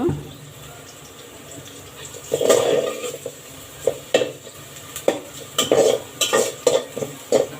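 Onions turning light golden in a pan, for a taro stolon curry, crackle quietly while a spoon scrapes and clatters against the metal in uneven bursts, growing busier midway; no voices.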